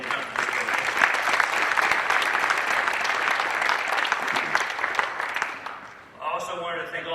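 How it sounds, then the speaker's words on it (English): Audience applause for a departing basketball coach at a press conference, a steady dense clapping from a crowd that holds loud for about six seconds, dips, then picks back up briefly. "give Coach Forbes a round of applause for all that he's done for this program"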